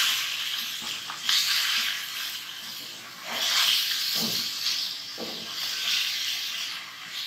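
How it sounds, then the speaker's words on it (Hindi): Chicken pieces fry in khara masala inside a pot, giving a steady hiss with recurring sizzling swells, close and moderately loud, with no voices. "तीन चार मिनट इसको भूनना है।"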